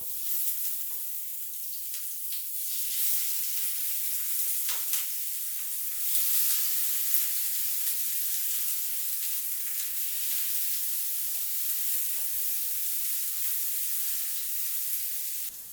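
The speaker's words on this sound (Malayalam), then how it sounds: "വഴുതനങ്ങ ചേർത്ത് കൊടുത്തതിന് ശേഷം ഒരു പത്ത് പതിനഞ്ച് മിനിറ്റെങ്കിലും ഫ്രൈ ചെയ്തെടുക്കണം" Brinjal pieces fry in coconut oil with curry leaves, giving a steady, close, even sizzle that runs unbroken, with a few faint utensil taps and no voices.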